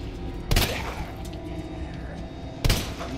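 Player firing a gun in Resident Evil 2 Remake, two sharp loud shots about two seconds apart, close, with a rumbling background between them.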